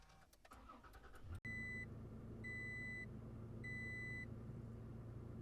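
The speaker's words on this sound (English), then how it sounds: "Let's go ahead and start up the truck." A pickup truck's engine starts with a sharp crank, then settles into a steady idle while a chime beeps three times in an even rhythm from the cabin.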